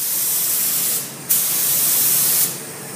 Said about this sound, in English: The technician has just picked up his gun, and we're going to apply the third and final coat.